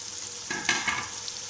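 Potatoes and eggplant go into a hot pan with oil and start to fry, a short burst of sizzling and scraping stir sounds, close and fairly loud, settling into a steady crackle.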